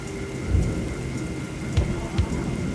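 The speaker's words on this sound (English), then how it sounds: "I like the sound of the rain. I like the thunder." Steady rain pours across the whole stretch with low thunder rumbles rolling in three times, close and heavy, forming a continuous stormy ambience behind a live stream with no talking.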